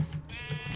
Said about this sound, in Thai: โอ้โหเจอแกะ